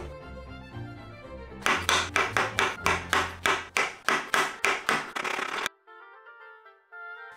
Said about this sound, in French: Là, je vais couper les champignons en quartiers.